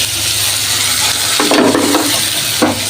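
Shrimp frying and being stirred in hot oil with chopped garlic and green chilies, a steady sizzle with louder bursts of spatula scraping and stirring near the pan.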